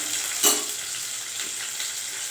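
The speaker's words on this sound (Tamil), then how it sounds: "கருவேப்பிலை பொரியட்டும்." Curry leaves hit hot oil with a sharp burst of spitting, then settle into a steady soft sizzle, no talking.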